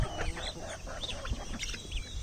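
Wild turkeys cluck and chatter in quick, overlapping calls close by, a busy flock sound with faint background noise.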